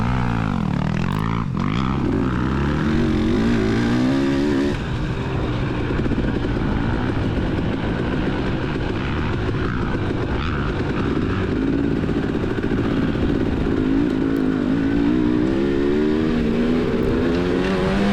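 Motocross dirt bikes racing at a cross-country event, engines revving and droning up and down in pitch as they pass, one close machine roaring over a continuous mix of others throughout, no speech.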